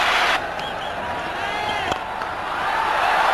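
Crowd noise at a 1996 Cricket World Cup semi-final roars loudly after a shot with Sachin Tendulkar on 49, a broad sustained din with a brief dip early on, then building again toward the end.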